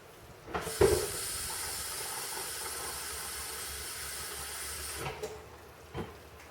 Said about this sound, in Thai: แม่บ้านก็จะใส่น้ำซุปลงไปนะคะ เป็นน้ำธรรมดาค่ะ ใส่ลงไปเลย